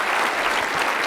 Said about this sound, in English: let's give our speaker one more round of applause